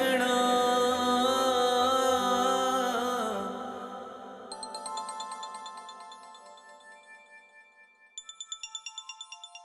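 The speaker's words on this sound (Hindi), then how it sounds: "किसका फोन आ रहा है?" A mobile phone ringtone in a Pakistani television drama scene: a bright, repeating electronic melody chimes in as a sung background track fades, with rhythmic tone bursts growing louder toward the end.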